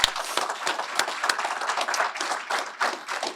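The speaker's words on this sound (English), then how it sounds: "Let's give everyone that is an elected official, either seeking office or currently in office," Applause for elected officials at a spring legislative breakfast: a roomful of people clapping steadily throughout, dense overlapping claps at moderate volume with no talk.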